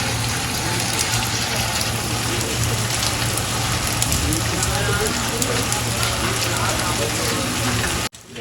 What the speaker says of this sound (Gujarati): ગામમાં આજે વરસાદ બહુ પડી ગયો છે